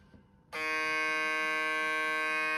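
TPOB Goblin barber hair clipper switched on after a brief quiet moment, its motor running in a steady, loud, high-pitched whine with a faint buzz, continuous with no change.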